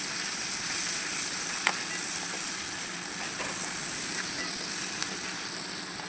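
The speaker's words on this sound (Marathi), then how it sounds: "आपण कांद्यामध्ये थोडंसं चवीनुसार मीठ घालून घेऊ, जेणेकरून आपला कांदा लवकर परतून जाईल" Onions sautéing with salt in a pan for a homestyle capsicum potato sabzi: a steady, soft sizzle with faint crackles and a couple of small pops, constant and fairly quiet, with no voices.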